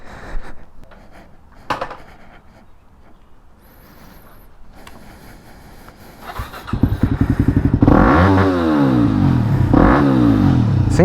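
A Yamaha WR250X dirt bike engine idles quietly, then revs up hard in loud, rising and falling bursts that fill the second half.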